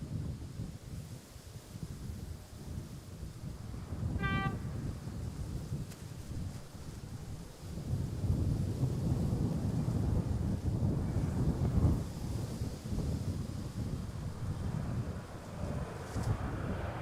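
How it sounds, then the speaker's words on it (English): Wind gusts at Schiphol Airport, Amsterdam, buffet the microphone with a low rumbling rush that strengthens in the second half, a brief chirp cutting through near the start. "The wind is starting to pick up a little."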